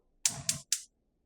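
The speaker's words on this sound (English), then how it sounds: "Turn on the stove." Three sharp clicks in quick succession come from a stove igniter as a kitchen burner is turned on, close and clear against silence.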